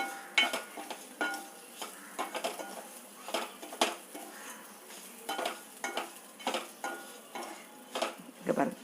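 Coriander and lentils dry-roasting in a pan, stirred with a utensil: repeated scraping and light rattling strokes in an uneven rhythm, close and moderately quiet, with no talk.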